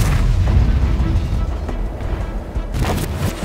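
Tank cannon fire in a video game about armor penetration, deep booming blasts with a rumbling, continuous low roar, loud and close, with a second burst near the end.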